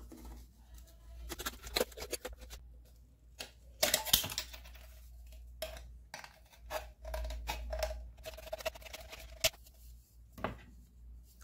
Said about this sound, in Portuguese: vou usar essa lata aqui da Brahma e vou remover esse fundo aqui. Com a tesoura mesmo,